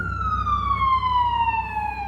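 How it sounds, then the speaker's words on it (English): An ambulance siren wails past outside an open window, one loud continuous tone sliding steadily downward in pitch as it goes by over low traffic rumble. "ambulance, have the window open"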